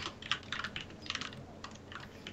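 Rapid keyboard typing clatters in irregular bursts of keystrokes, close and fairly quiet, during a Garry's Mod Murder gaming session.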